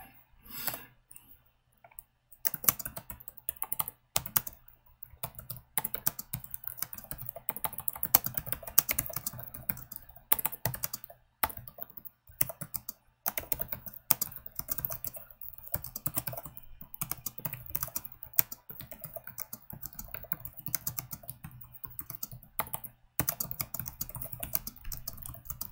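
Steady typing on a computer keyboard, a near, continuous patter of key clicks with brief pauses, sounding alone with no talk.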